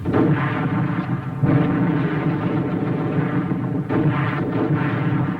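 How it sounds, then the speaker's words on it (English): Mortar fire in a war drama comes through as a loud, continuous, heavy rumble of battle that lasts the whole five seconds, with no talk. "Mortar."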